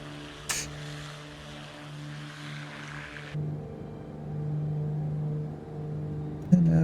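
Aircraft engine in a flight simulator drones steadily on a short runway, its hum shifting and strengthening as the throttle is pushed forward for takeoff, with a faint click at the start and end.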